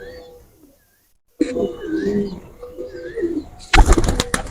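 Hercules breed pigeon chicks giving soft, wavering coos and small cheeps, close by, with a brief silent gap and a burst of rustling or flapping near the end.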